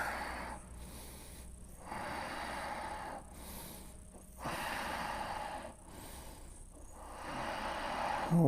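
Slow, deep breathing during a yoga class for athletes: several long, airy inhales and exhales in a steady rhythm, close and soft, with no talk.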